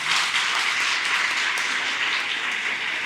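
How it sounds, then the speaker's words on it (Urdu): An audience at a talk on children's mental health claps steadily, a dense, even wash of applause filling the room at moderate volume throughout. "تالیاں تو بجا لینا."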